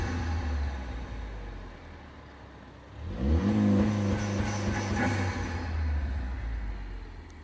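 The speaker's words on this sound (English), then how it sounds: "this is a little video of the two-stage rev limiter with the engine or the hood open" A 2013 Ford Focus ST engine, hood open, idles low, then revs up and holds against a two-stage rev limiter set at 3,000 RPM, giving a loud, steady droning hum with a slight stutter before it settles back.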